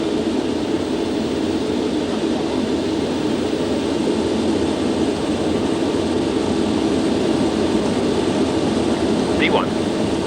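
Concorde's engines roaring at full takeoff power, heard from inside the cockpit: a steady, loud, unbroken jet rumble and hiss throughout, with crew voices faintly under the noise.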